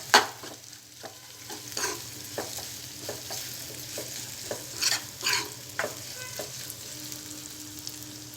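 Ground masala fries in a pan for masala egg curry, giving a continuous close sizzle broken by regular stirring scrapes and clinks of a spoon against the pan.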